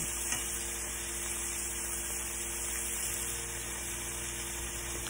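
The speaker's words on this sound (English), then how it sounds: "doing some bacon in the pan" Bacon sizzling in a frying pan, a steady, close crackle and hiss of fat with faint kitchen clatter underneath and no talking.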